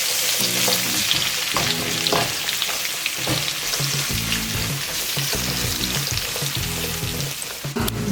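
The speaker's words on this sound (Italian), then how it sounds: "mettiamo tutto insieme con la carota, ecco, facciamo soffriggere" Carrot and bell pepper strips sauté in a pan for a goulash, a steady broadband sizzle with repeated scraping stirs and utensil knocks throughout, close and fairly loud, with no talk.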